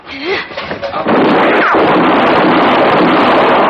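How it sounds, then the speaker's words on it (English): A gunshot from a Western radio drama bursts out and leaves a loud, sustained roar after a brief spoken line, with wind-like noise filling the rest. "You shot him."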